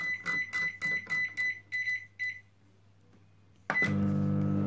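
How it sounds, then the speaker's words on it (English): A microwave oven on full power starts up: a run of rapid keypad beeps, a short pause, then a loud, steady hum as it begins heating, with no talking. "got to get in the microwave now on full power for 5 minutes"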